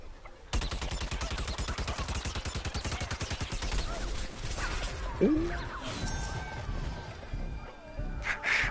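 Rapid automatic gunfire in the shooter game Plants vs. Zombies Garden Warfare 2: a loud, fast, steady stream of shots for about four seconds, then looser in-game impacts and effects.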